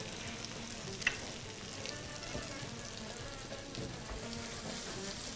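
Chili powder, mint and other spices sizzle softly in butter while being stirred, a steady quiet crackle with a few small clinks of the utensil and no talking.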